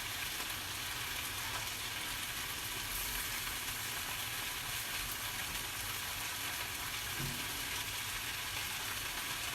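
Cabbage and a mixed vegetable blend stir-frying in an oiled pan for pork bokkum, a steady loud sizzle filling the whole stretch with faint scrapes of stirring and no talk.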